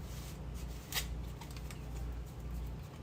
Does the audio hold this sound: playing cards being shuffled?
yes